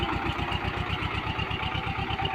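A tractor engine ploughs the soil of a sweet lime orchard, chugging steadily with a close, even, rhythmic throb.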